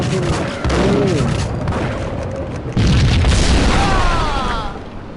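A grenade explosion in the video game Max Payne, loud booming bursts landing near the start and again around the middle, with rumbling debris and a fading tail.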